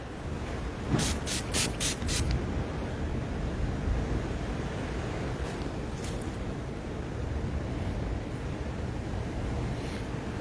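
A spray can being sprayed, with several short hissing bursts in quick succession near the start and a few more later, set against a steady background hiss.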